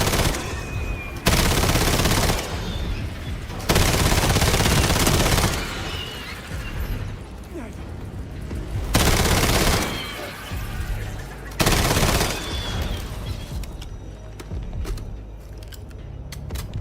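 Loud automatic gunfire sounds in repeated long bursts, separated by short pauses, as weapons fire at spider creatures in the video game Black Ops 7, with quieter game ambience between bursts.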